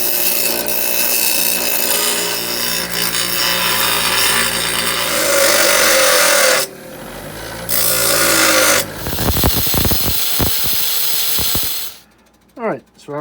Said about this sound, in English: Oh well, grinder time.